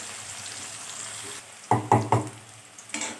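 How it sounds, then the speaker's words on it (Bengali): Onions fry in oil in a pan, a soft steady sizzle broken by a quick run of sharp clattering stirs near the end, with no voices. "পেঁয়াজগুলো লাল লাল করে ভাজা হয়ে গেছে"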